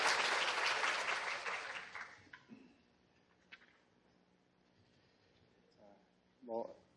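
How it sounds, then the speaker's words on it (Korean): A lecture audience gives a short burst of applause that fades within two seconds, leaving a quiet hall with a few faint knocks and a brief voice near the end. "박수 한 번만 더."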